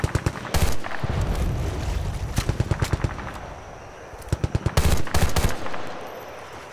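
Gunfire in the video game Battlefield: Bad Company 2: loud rapid machine-gun bursts and single shots crack in quick rhythmic volleys over a steady rumbling battle background.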